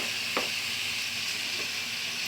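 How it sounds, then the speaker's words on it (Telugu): Garlic chili powder sizzles steadily in hot oil, a continuous bright frying hiss with one faint clink near the start and no voices. "ఈ ఆయిల్లో మనం కారం వేసుకుందాము ఎల్లిపాయ కారము"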